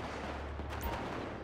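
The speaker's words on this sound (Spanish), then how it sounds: "Disparo" Gunfire in the video game GTA V roleplay, a short burst of sharp shots with a deep booming low end, fairly loud and alone.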